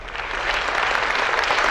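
An audience at a skill convocation award ceremony in Delhi applauds differently-abled award winners, giving sustained, dense clapping that stays steady and fairly close throughout.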